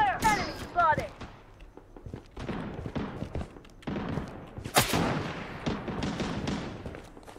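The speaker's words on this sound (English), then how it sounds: "Taking fire!" Gunfire in the shooter video game Blood Strike, with sharp repeated shots and bursts over rough game noise and footsteps, under frequent talk and in-game voice callouts.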